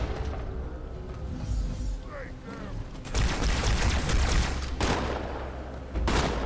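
Shotgun blasts boom in Halo 2: Anniversary on Legendary difficulty, several heavy close shots in rapid succession over a constant battle din, with faint talk underneath.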